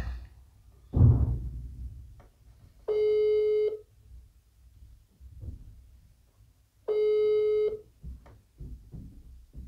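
A telephone ringback tone sounds as a call waits to be answered: two long, steady electronic tones several seconds apart, with faint background murmurs and rustling between them.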